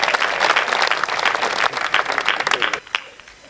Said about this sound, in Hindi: बस एक बार अच्छी सी तालियां बजा दीजिए